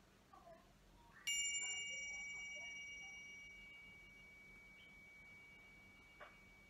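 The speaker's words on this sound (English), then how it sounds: "We'll begin and end with the sound of this bell." A single bell is struck once at the start of a yoga session, its clear bright tone ringing out and slowly decaying over several seconds in a quiet room.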